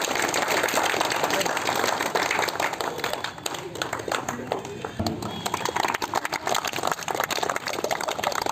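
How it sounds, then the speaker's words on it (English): A crowd at a school cricket tournament ceremony applauds with steady, dense clapping that fills the whole stretch, fairly distant and noisy, with voices mixed in underneath. "Let's give a round of applause to him."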